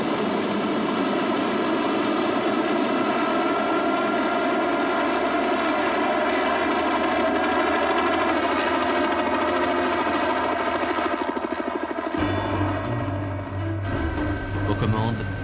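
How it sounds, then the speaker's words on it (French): Helicopter used to spot and approach polar bears, flying with a steady, loud rotor and engine drone that holds throughout, shifting in tone near the end. "Pour repérer et approcher les animaux, l'hélicoptère est le moyen le plus rapide et le plus sûr."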